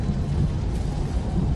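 Deep, steady rumble of thunder in a stormy film scene, a continuous low roll filling the short stretch with no voices, loud and enveloping.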